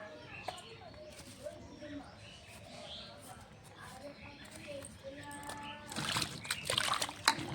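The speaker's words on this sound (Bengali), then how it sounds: "বেগুনটা ভালো করে ধুয়ে নেব দুবার করে।" Eggplants from a home garden, the thorny kind, being washed in water: soft splashes and sloshing that grow busier and louder near the end, with a few faint voices and household sounds behind.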